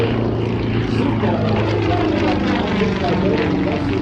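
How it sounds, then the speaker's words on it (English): A Yak aerobatic propeller plane flies slowly past at the Canadian International Air Show in Toronto with its landing gear extended. A loud, steady engine drone fills the air without a break. "He's just got the landing gear extended to show you the slow speed capability of the Yak"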